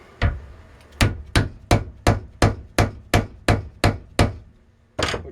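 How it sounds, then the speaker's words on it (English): Firework powder is rammed with a pointed rammer for a spolette disc in a 5-inch single-break shell: about a dozen sharp mallet blows in a quick, even rhythm with a brief pause before the last one, close and distinct, with no talk. "I'm going to ram it with my pointed rammer."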